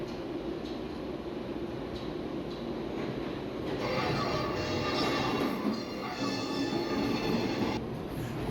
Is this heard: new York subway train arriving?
yes